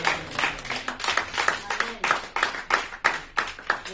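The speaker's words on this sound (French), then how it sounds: "Est-ce que tu peux applaudir cette parole?" A church congregation applauding during a sermon on marriage and the return of Jesus, with rhythmic bursts of clapping interleaved with a voice speaking and calling out over the claps.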